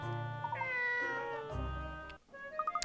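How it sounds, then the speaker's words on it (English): A cat meows in Layton's Mystery Journey on Switch, with several short, close mews over quiet game music and a few soft chirps at the end. "this isn't the cat we're looking for"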